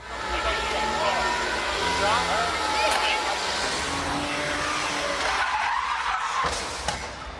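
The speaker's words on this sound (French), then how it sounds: "il a vraiment un beau tête à queue à faire, et ça a glissé beaucoup trop" A Peugeot 406 sliding into a spin, tires skidding and squealing over a loud engine roar, with pitch sweeps and a harsh noisy wash that drops away briefly near the end before rising again.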